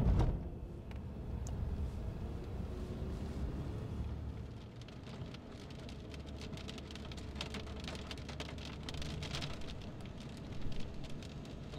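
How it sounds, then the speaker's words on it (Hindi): Heavy rain pours down in the city of Taif, Saudi Arabia, a dense continuous hiss of drops spattering on surfaces, with a steady low rumble beneath. "ये देख रहे हैं जनाब ताइफ शहर के अंदर फुल बारिश हो रही है"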